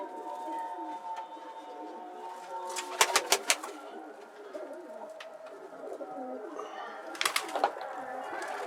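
Pigeons coo softly in a low, murmuring chorus, with a couple of sharp bursts of fluttering or flapping and faint talk in the background.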